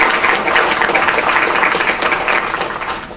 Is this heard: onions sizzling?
no